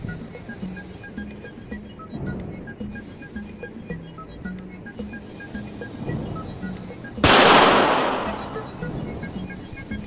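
A single .32 calibre shot at an AR500 steel plate cracks sharply and loudly, then rolls off in a long echoing decay across open ground, with quiet background murmur before it.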